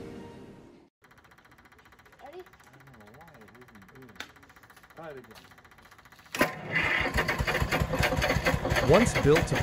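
A 1961 Detroit Diesel 2-71 two-stroke engine, once used to power refrigerated railcars, starts up midway and runs with a loud, dense rumble, following a quieter stretch with a faint mechanical whine and brief speech.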